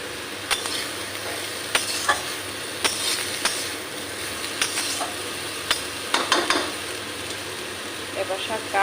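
Water spinach with green mango pieces and slit green chillies sizzles and fries in a pan, with a steady crackle broken by sharp clinks and scrapes of a utensil stirring against the metal.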